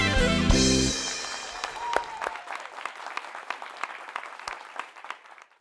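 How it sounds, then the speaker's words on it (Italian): A studio audience on a television show applauds a soloist, a scattered run of claps following a loud closing musical chord, thinning gradually into lighter clapping. "Facciamo l'applauso, Luca."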